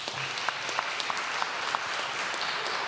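Audience applause for graduates at a ceremony in a chapel, a steady wash of many hands clapping at even strength across the room for the whole stretch, with no voices over it.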